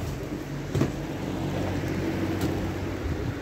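A steady, noisy whir of a running Holmecrest metal box fan with a rough, choppy texture, close by, with no voices.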